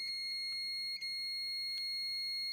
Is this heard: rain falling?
no